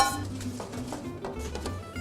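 Melon balls dropped into a pan with wine caramel and a little butter, giving soft clinks and scraping of a utensil against the pan, close and fairly busy, with no voice.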